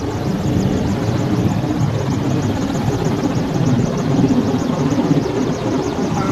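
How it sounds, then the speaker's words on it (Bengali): An air force helicopter passes overhead during street unrest in Badda, giving a steady, loud rotor and engine drone that holds evenly for the whole stretch with no voices. "মাত্র আসলো এটা এয়ারফোর্সের হেলিকপ্টার।"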